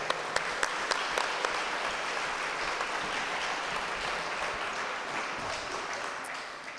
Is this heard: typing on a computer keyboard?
no